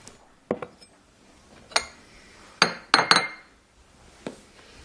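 A coffee cup handled after the coffee is drunk gives a handful of sharp, close clinks of glazed china. The knocks are irregular, with a quick cluster near the middle and quiet gaps between.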